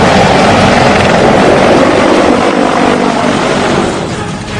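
A military helicopter slowly lowering a howitzer cannon on a rope, a loud continuous rotor and engine roar that stays heavy and fades slightly near the end.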